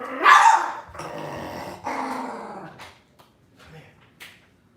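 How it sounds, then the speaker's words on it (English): A rowdy dog growls and barks indoors, close and loud, with a harsh opening bark followed by rough growling and a few shorter, fading yips. "The dog was just getting a little bit too rowdy and I had to get her out of here."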